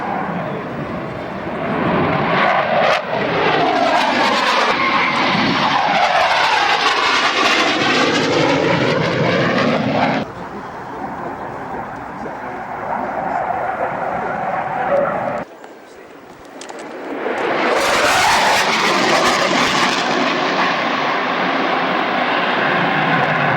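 Aircraft of the Polish Air Force Academy's Orlik team fly past at an air show, their propeller engines roaring loudly and continuously, swelling and fading as they pass overhead, with a commentator's voice partly under the noise.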